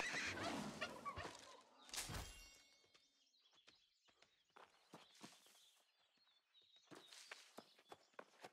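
Turkeys in the video game New World gobble and cluck in a loud burst, followed by scattered footsteps and faint bird chirps over a quieter stretch.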